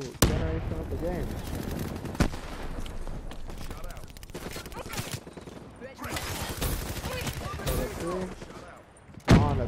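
Rapid automatic gunfire from a recoil-less gun in a Call of Duty match on the Nuketown map, with dense bursts of shots, a few sharp louder blasts, and game sounds throughout.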